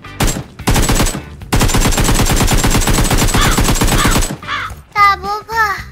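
Rapid automatic gunfire from the mobile shooter Game for Peace (Peacekeeper Elite), loud sustained bursts separated by short gaps, followed by a few squawking or cawing calls near the end.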